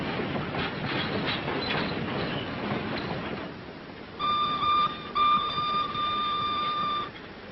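A train rumbles along a railroad with a steady rolling clatter, followed by a sustained high-pitched wheel squeal or whistle tone over the running noise.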